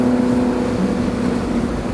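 A 1960s Italian roadster with roughly 100 horsepower drives at about 30 mph, its engine giving a steady, buzzy drone that continues evenly at close range, with no talk.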